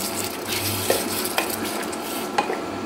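A spoon stirs a watery chicken curry in a pot, making brief scraping and clinking sounds against the metal over a faint simmer.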